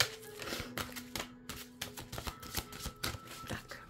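Angel tarot cards are shuffled by hand, a quick series of crisp, papery riffles and flicks at close range, fairly soft with brief pauses between bursts.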